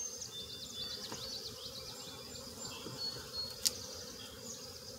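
Honey bees buzzing at a busy hive of freshly hatched nurse bees, with basswood in bloom on a summer morning: a steady, even hum that holds throughout, with one brief sharp click near the end.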